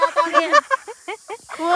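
A chicken calls in a rapid series of short, loud, nasal clucking notes, close by, with a brief pause before a final call.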